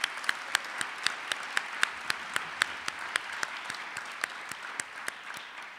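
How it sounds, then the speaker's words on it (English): An audience at a Martin Luther King Jr. Day keynote at Bates College applauds, with dense, steady clapping and sharp individual claps standing out throughout, sustained at an even level with no one speaking. "Let's give her one more round of applause."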